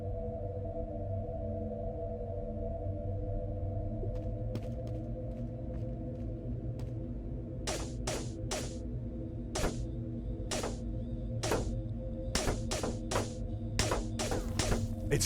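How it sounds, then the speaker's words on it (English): Morse code beeps in a video game sound as short, sharp tone pulses in irregular groups over a steady low humming background, moderately loud and near. "Morse code."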